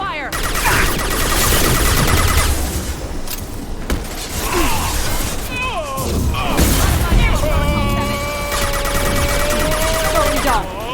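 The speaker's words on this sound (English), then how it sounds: "Protocol 4, deploy suppressive fire." Sustained suppressive gunfire in a Mass Effect–style video game firefight, loud bursts of rapid shots with crashes and mechanical effects, mixed with brief voices and electronic tones.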